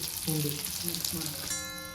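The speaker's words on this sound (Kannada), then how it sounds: "ಇನ್ನೊಂದು ಚಮಚೆ ತುಪ್ಪ ಹಾಕ್ಕೊಂಡು ದ್ರಾಕ್ಷಿಯನ್ನು ಹುರ್ಕೋಬೇಕು" Raisins sizzle softly in a spoonful of ghee, with short bursts of stirring over a continuous close hiss; no one talks.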